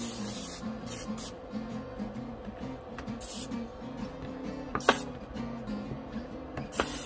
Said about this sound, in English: spray some olive oil on them